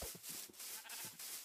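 Sheep in Minecraft give several short, faint bleats in quick succession, thin wavering calls spaced through a brief stretch with no talking.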